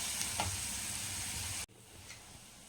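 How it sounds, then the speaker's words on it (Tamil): Onions sizzling and frying in a pan for a village-style sundakkai vathal kuzhambu, a steady close hiss with faint stirring that drops suddenly quieter partway through. "வெங்காயம் நல்லா வதங்கிடுச்சு"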